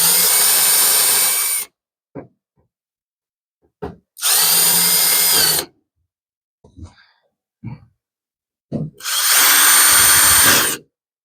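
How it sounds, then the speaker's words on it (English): Power drill boring small rivet holes through a fiberglass car hood while fitting quarter-turn hood latches, three loud sustained bursts separated by brief pauses with faint clicks and handling noises between them. "I'll start the holes for the rivets, then remove the brackets and finish them off with the fastener out of the way"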